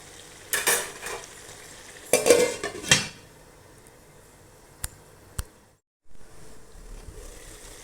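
A spoon stirs dal and beetroot in a pan, with two short bursts of scraping and sizzling early on, then two sharp metallic clinks, over a faint background hiss.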